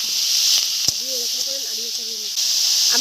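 Squeezed banana stem frying with mustard in hot mustard oil makes a steady, close hissing sizzle, with a voice speaking briefly over it.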